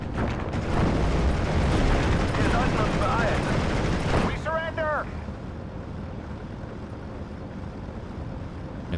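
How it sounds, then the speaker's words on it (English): Vielfachwerfer rocket artillery firing in Steel Division: Normandy 44, a dense, roaring rush of launches and blasts for several seconds that cuts off into a softer rumbling battlefield tail with a brief rising whistle. "I'm going to fire on it with the Vielfachwerfer."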